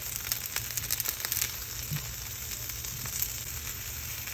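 Apples and Brussels sprouts sizzling in a pan on low heat, a constant bright hiss with scattered crackles and faint utensil touches, close and unaccompanied by speech.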